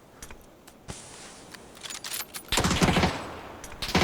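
Bursts of gunfire in the battle-royale game PUBG, with a sharp loud volley near the end and scattered shots earlier, fairly close and punchy.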